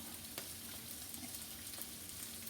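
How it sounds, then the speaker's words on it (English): Eggplant, yellow squash and okra fry together in a home deep fryer, giving a steady, quiet bubbling sizzle of hot oil that runs evenly throughout with no voices. "this is multi-vegetables fried at the same time in her deep fryer"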